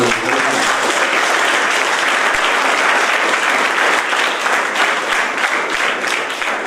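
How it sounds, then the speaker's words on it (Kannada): An audience at a personality development programme at Ranganatha PU College applauds, with sustained, dense clapping from many hands that stays loud and even for several seconds. "ಅವರಿಗೆ ಒಂದು ಚಪ್ಪಾಳೆ ಮುಖಾಂತರ"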